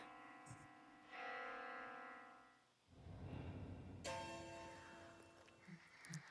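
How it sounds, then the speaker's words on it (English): An echoing bell tone from the horror video game Death Mark II rings out with a long reverberant tail, then gives way to a dense, distorted rumble. "The sound of a bell suddenly echoes in my mind."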